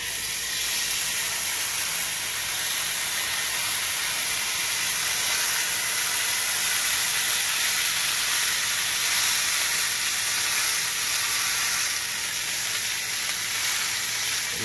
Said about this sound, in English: Guys, we're about to go ahead and sear our lamb shank now.